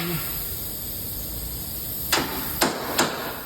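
Three sharp metallic hammer taps drive a bolt into the lower control arm of a 2010-2013 Kia Soul during ball joint replacement, the strikes coming close together near the end after a quiet stretch.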